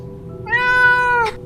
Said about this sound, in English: Oh no, it's a cat.